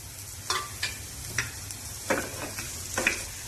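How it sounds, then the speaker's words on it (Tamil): Chopped onions sizzle steadily in a pan with a spoonful of ghee, with a spoon scraping and stirring them every second or so while cooking channa masala gravy. "ஒரு பேன்ல 1 spoon போல நெய் விட்டுட்டு ஃபர்ஸ்ட் நம்ம வந்து வெங்காயத்தை வதக்கிக்கலாம்"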